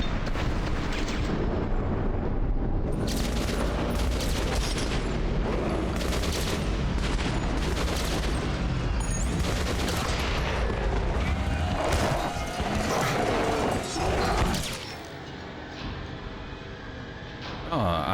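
Heavy gunfire from a battle in the video game Metro Last Light, loud sustained bursts and volleys filling most of the stretch and thinning toward the end, with a voice speaking over the shooting.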